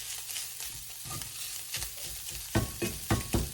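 Lean 93% ground beef sizzles in a pan while it is crumbled and stirred, giving a steady fry hiss broken by scraping and tapping strokes that grow louder and more rhythmic toward the end, close up, without speech.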